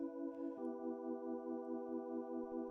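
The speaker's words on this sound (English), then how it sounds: "That's the Leslie simulation." A sustained organ chord with a steady, wavering tremolo shimmer from a rotating-speaker effect, held evenly throughout without voices.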